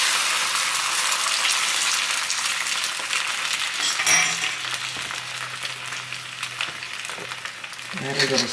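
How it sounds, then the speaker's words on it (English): Eggs sizzle in a frying pan with a constant crackling hiss, joined by a sharp clink around the middle and a low steady hum afterward, continuing loudly to the end. "I'm going to fry up my eggs."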